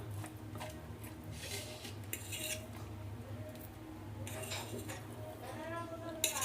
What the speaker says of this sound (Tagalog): Ihalo natin mabuti yung ating mga ingredients.